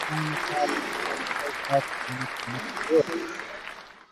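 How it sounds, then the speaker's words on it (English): A crowd applauds the pro-class winner at the European Time Attack Masters, steady clapping lasting several seconds and fading out, with a voice speaking over it and occasional louder cries. "Give him a round of applause for that."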